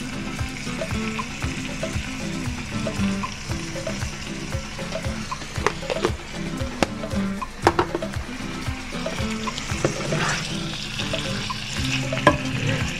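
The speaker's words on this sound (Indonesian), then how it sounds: "soto kita sudah mendidih" Soto Lamongan soup bubbles and simmers in a pot nearby, a busy gurgling hiss broken by scattered clinks and scrapes as it is stirred.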